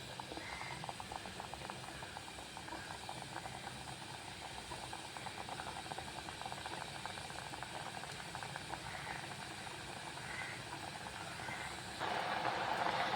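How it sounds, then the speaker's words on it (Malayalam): Kalan curry paste bubbling in a pan on the stove, a steady close simmering hiss with soft rattling bubbles throughout, growing slightly louder near the end. "അപ്പോൾ നമ്മുടെ വേണ്ട അരപ്പ് നല്ലപോലെ തിളച്ച് വന്നിട്ടുണ്ട്"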